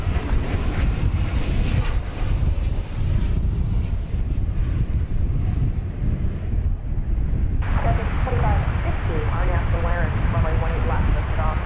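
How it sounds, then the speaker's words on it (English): An American Airlines jet arriving at DFW airport rumbles loudly and continuously with a deep roar mixed with wind noise, while someone talks over it. "This is American Flight 390 coming in from Mexico City."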